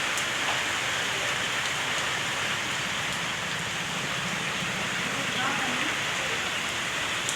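Steady rain pours down outdoors on a small farm with ducks and chickens, a dense, even hiss of drops close to the microphone throughout.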